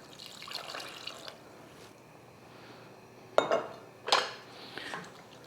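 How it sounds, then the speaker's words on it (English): Water is poured into a pot of cooking spinach, a brief splashing burst with clinks of pot and utensil over a quiet kitchen background, fairly close. "I think I'm going to add a little bit more water"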